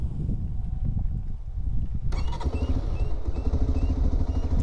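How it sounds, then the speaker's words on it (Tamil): A Bajaj Pulsar 125 (2025) motorcycle engine with a silent exhaust turns over and catches partway through, shifting from quiet background rumble to a close, steady running drone with rattling clatter. "வண்டி வந்து இப்போ நம்ம ஸ்டார்ட் பண்ணி காட்டுறேன்"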